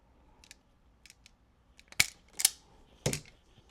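A wire stripper clamps and pulls insulation off a ground wire during a custom boombox build, giving a few sharp, close snips and crunches over about a second, with faint clicks before.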